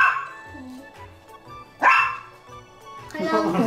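A pet dog barks indoors at a newly arrived pet turtle with several sharp, close barks and yips. People talk around and between the barks.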